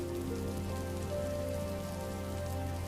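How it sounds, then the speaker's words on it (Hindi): Heavy rain pours steadily and loudly on a rural village during a storm, a dense unbroken hiss of drops on surfaces with no voices. "ये बारिश तो बढ़ती ही जा रही है"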